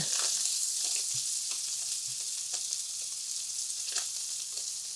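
Salmon fries in a pan with a constant, close, bright sizzle, dotted with soft taps and stirring sounds. No voices are heard.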